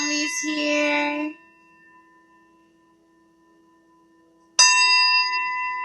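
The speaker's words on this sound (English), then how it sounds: "We called this the healing bell, the bell bowl." A singing bowl, called a healing bell, struck twice for cleansing: a bright strike that rings on and slowly fades, then a second sharp strike with a long sustained metallic hum, loud and close.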